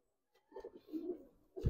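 Pigeons of the Giribaz and colored fancy breeds give a short soft coo, a low throaty burble lasting about a second, faint and close, with a louder bump at the end.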